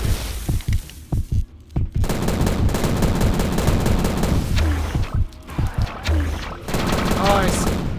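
Grenade launcher fire in the 2006 shooter Prey, heavy booming shots and explosions in quick clusters with crackling debris and rumbling, loud and close throughout, with a brief voice in between.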